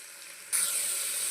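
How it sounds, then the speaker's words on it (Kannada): Chillies and spices hit hot oil in a pan for tomato bath, setting off a sudden bright sizzle after a quiet moment that then holds steady and close to the end. "ಒಂದು 30 ಸೆಕೆಂಡು ಈ ಥರ ಫ್ರೈ ಮಾಡಿ"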